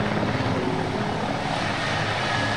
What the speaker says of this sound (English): This was the biggest helicopter on show.